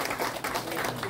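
An audience at a calligraphy exhibition in Insadong applauds to welcome a calligrapher, a dense, steady burst of clapping throughout, loud and close, with no pauses.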